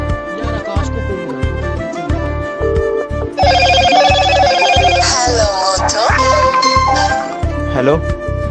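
A phone rings with a repeating electronic ringtone melody over a steady rhythmic music beat, loud and close.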